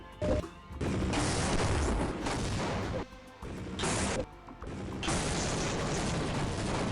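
Half-Life tau cannon, the gauss gun, in a video game, giving several loud broadband bursts and crashing blasts separated by short quieter gaps, with no talk.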